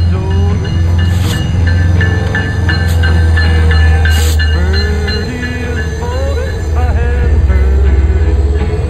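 A train in Alaska, headed for Denali, rolls along the rails with a heavy low rumble, metallic squeals and creaks from the wheels, loud and close, continuous throughout.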